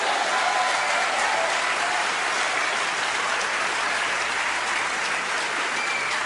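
A church congregation applauds steadily during a sermon, a dense, even wash of clapping that holds at a constant level throughout with no words spoken.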